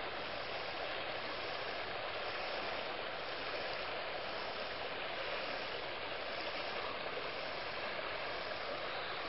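Heavy water rushing over a dam that normally has a four-foot drop but is now level from high water, a steady, dense roar that stays constant and near throughout with no talk.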